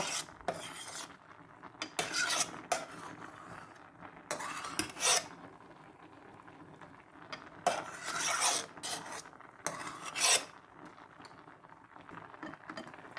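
A metal spoon scrapes and clinks against a pot while skimming foam off simmering turmeric dal (yellow lentils), in irregular bursts of rasping strokes separated by quiet pauses over a faint bubbling background.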